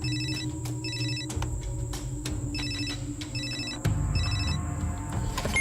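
Telephone at a military field unit ringing in repeated short trilling bursts, evenly spaced over a low steady hum, with no voices.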